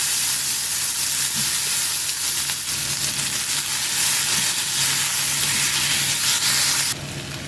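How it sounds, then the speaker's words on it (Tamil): Chopped tomatoes sizzle and fry steadily in a hot pan for a Tamil mochai kottai brinjal kuzhambu, a continuous close hiss with faint stirring and no talk. "இதை வதக்கிறேன்."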